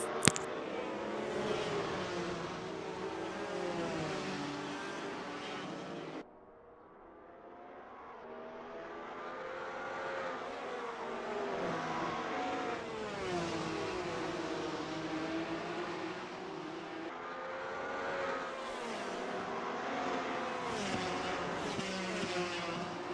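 Formula Alfa race cars on a track scream past in close succession, their engines rising and falling in pitch as they shift through gears, a continuous roar that drops briefly before building again.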